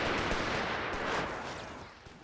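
Sustained gunfire from a Company of Heroes 3 strategy match against a UK army: a dense, rattling barrage of shots that stays steady and fairly distant, easing slightly toward the end with no voices.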